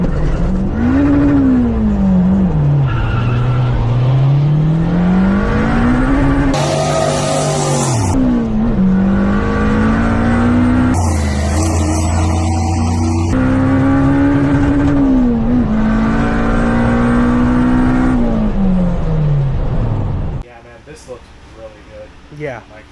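A turbocharged AWD Honda Integra with a D16Z6 engine, running without slicks, screams loudly as its engine revs rise and fall while the tires spin with no traction at the track, then cuts off to quieter background.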